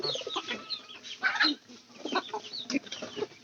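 Chickens cluck at feeding time in a coop with food set out on upper and lower levels. Short, repeated clucks and calls overlap continuously at close range, with no talking.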